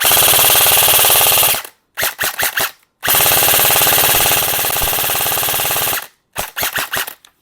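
A Double Bell ABS M4A1 airsoft rifle fires loud, rapid full-auto bursts with a buzzing mechanical rattle, two long strings each followed by short choppy bursts separated by silence, close up.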